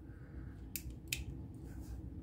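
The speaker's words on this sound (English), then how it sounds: "Last but not least are the scissors," A Victorinox Spirit X Plus multi-tool's small scissors are handled, giving two quick, faint metallic clicks against a quiet room hiss.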